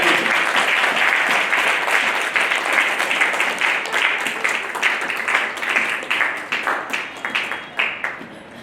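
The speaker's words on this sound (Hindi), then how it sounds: "ताली बजा दीजिए जोर से यीशु मसीह की जय।" Loud, sustained applause from a crowd at a Christian revival meeting in Rajasthan, steady rhythmic clapping filling the whole stretch and thinning slightly toward the end.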